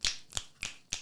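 Four crisp finger snaps in quick succession, close and dry, evenly spaced about a third of a second apart with no talking over them.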